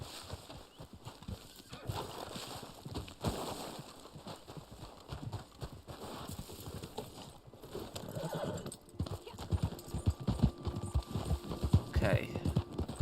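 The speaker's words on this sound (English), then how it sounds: "There's my horse, okay, over here." In the Red Dead Online video game, a horse's hooves clip-clop in uneven bursts and it whinnies, while a person talks over the sounds.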